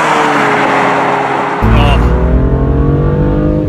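A small, light manual sports car pulls hard through its gears, the engine note dropping sharply at a shift and then climbing again, loud and close throughout with a voice talking over it.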